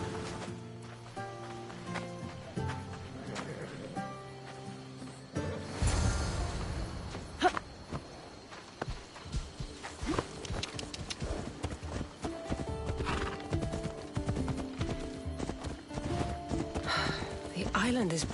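Horse hooves clip-clopping at a steady riding pace in Assassin's Creed Odyssey, rhythmic moderate thuds continuing under characters talking, with ambient music in the background.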